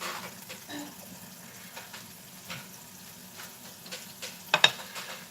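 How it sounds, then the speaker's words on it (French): Food is stirred in a wok as it comes to a boil, with soft scraping and light sizzling at a low level and a few sharper clinks of the utensil near the end. "On va un peu touiller dans la poêle."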